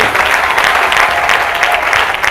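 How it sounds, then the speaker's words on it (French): A church congregation applauding loudly during a ceremony honoring a pastor, a thick, sustained wash of clapping from a large crowd filling the room without pause. "Applaudissons très fort pour le Seigneur."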